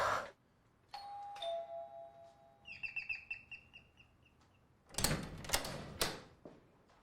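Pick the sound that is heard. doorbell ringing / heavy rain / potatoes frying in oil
doorbell ringing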